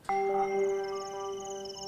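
A single bell strike rings out with a bright metallic tone, then sustains and slowly decays, clear and fairly close with no other sounds.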